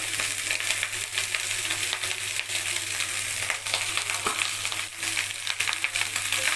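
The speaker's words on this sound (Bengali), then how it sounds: "রাইসটা দিয়ে দিচ্ছি কিছুটা।" Rice tipped into a hot oiled frying pan and stirred, a continuous loud sizzle broken by scraping stirs and light gritty clatter, with no voices.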